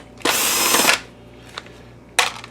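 A power screwdriver whirs in one steady burst of just under a second while backing a screw out of the cover of an Optoma X600 DLP projector, followed by a faint click and a second short whir that starts at the end.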